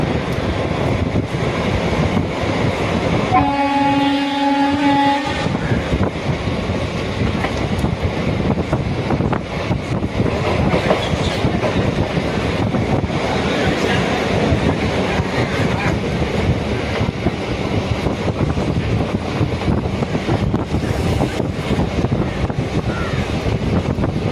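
A long-distance premium express train runs through a station without stopping on a foggy day, heard as a steady roaring rush of wheels and wind that lasts throughout, with a brief horn-like tonal blast near the start.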